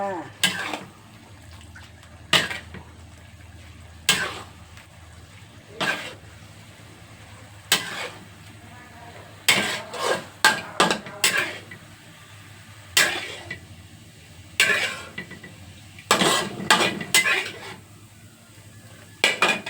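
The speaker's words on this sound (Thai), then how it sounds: "มาตักใส่ชามกันเลยค่ะ" Metal utensil scrapes and clanks against a pan as stir-fried basil squid is scooped into a bowl, irregular sharp scraping bursts repeating at close range over a faint background hum.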